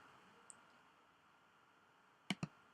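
A mouse button clicks on a Save button in software: a faint tick first, then two sharp, close clicks in quick succession near the end over quiet room tone.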